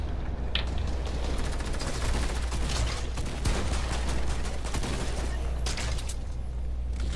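Rapid gunfire rattles steadily through a wall in a Fortnite match, a dense, continuous burst of loud shots with a few sharper cracks standing out over a constant low hum.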